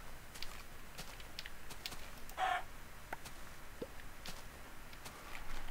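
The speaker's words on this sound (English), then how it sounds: "Ooh, chicken." A chicken in Minecraft gives one short, clear cluck midway through, over low background noise with a few faint clicks.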